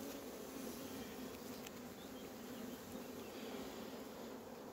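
Honeybees buzzing at an open hive while a beekeeper transfers frames from a nucleus box, a steady dense drone from many bees, close and continuous with no talk.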